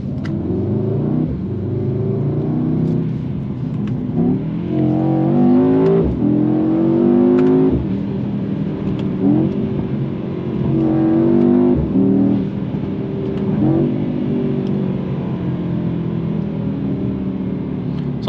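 A 2022 Mercedes-AMG E63 S sedan drives and accelerates, its engine note climbing through rising revs and gear changes in a steady, loud, close interior rumble with no talking.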